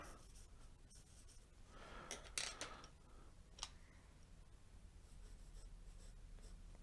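A pencil scratches short lines onto paper for a landscape drawing of clouds and hills, faint and close, with quiet bursts of strokes in a still room.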